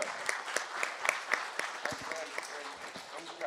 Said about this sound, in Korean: 회장님께 박수 한번 주세요.